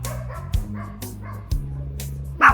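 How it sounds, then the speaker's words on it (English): A small dog barks alone in a few sharp, separate yaps spaced about half a second to a second apart, close and clear, with the last bark the loudest. "We all know most doggos bark, just like this little one here."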